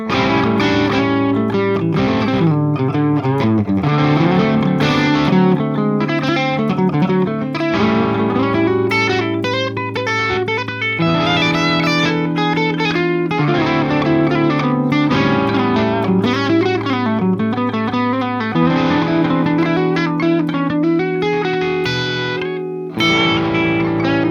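A distorted electric guitar plays a steady 12-bar blues progression, chords and single-note licks repeating in a loose cycle for the whole stretch.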